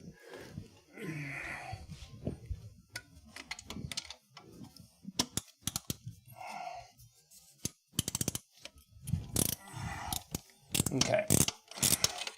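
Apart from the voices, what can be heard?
socket ratchet wrench working on RX-7 fuel injectors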